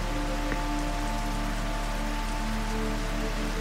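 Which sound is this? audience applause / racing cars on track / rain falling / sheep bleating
rain falling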